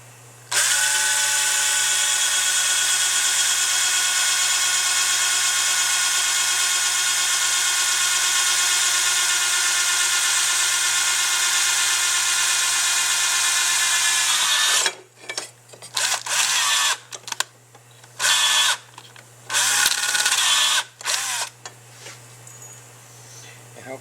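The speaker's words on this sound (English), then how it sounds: "You take a drill a 1/8 inch hole right through this section right here." A power drill bores a 1/8 inch hole through a section of a military fuel pump, whining at a constant high pitch for about fifteen seconds, then stopping and starting in short bursts.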